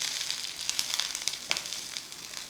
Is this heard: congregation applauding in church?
no